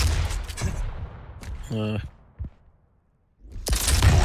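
Quake railgun shots and other weapon fire crack sharply during a 2v2 Clan Arena match, with bursts at the start and near the end under excited voices, and a brief quiet gap in between.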